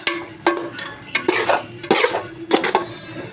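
A utensil stirs rice with salt in a pan, giving repeated scraping and clinking strokes in an uneven rhythm, close and clear with no talk.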